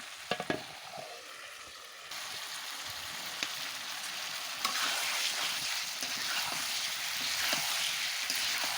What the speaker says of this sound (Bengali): মাংসগুলো এখন আমি ভালোভাবে কষিয়ে নেবো